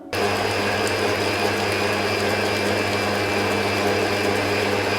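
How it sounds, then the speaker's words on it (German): Steady whirring motor drone of a kitchen food processor stirring yogurt cream with dissolved gelatine, running continuously and loud close by with no talk over it. "Und dann nehmt ihr gleich die Küchenmaschine und rührt den Rest doch mal richtig dort durch, dass die Gelatine gleichmäßig verteilt ist."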